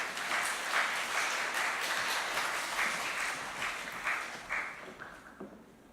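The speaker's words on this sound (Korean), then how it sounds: "나오실 때 환영의 박수로 맞이해 주십시오." A church congregation gives welcoming applause as a pastor comes forward, a sustained wash of many hands clapping at moderate distance that gradually thins and fades out over several seconds.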